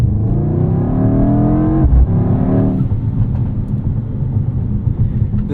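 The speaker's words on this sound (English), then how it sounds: "you get the odd little pop and burble from the exhaust" Mercedes-AMG GT 63 S E Performance running on the road, a deep engine rumble rising in pitch then settling into a low burbling exhaust note with faint irregular pops, loud and close with no talk.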